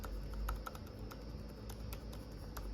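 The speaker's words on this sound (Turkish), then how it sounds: "Klavyesini temizledik. Bütün tuşları basıyor." Keys clatter in a quick, uneven run of light clicks as someone types on a cleaned MacBook keyboard after liquid-spill service, close and fairly quiet over a low hum.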